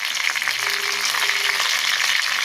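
Green chili and curry leaves crackle and sizzle steadily in hot oil in a pan for a simple Tamil ponnanganni greens kootu tempering, a dense continuous fry with no talk.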